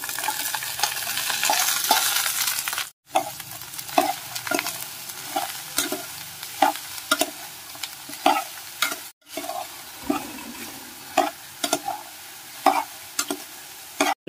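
Ridge gourd pieces fry in a mustard-seed, dal and curry-leaf tempering, a soft continuous sizzle broken by frequent rhythmic scrapes and knocks of a spatula in the pan, close up with no talking.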